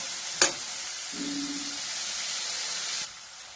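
A salted potato and poha mixture is stirred in a hot pan for fried vada: one sharp spatula scrape, then a steady close hiss of frying that cuts off abruptly near the end.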